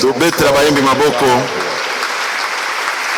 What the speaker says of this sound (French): Acclamons pour les encourager.